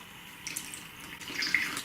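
Warm milk poured onto a sugar mixture for dairy- and gluten-free cinnamon roll dough, a soft close liquid trickle that swells into a brief splashy pour near the end, with no talking.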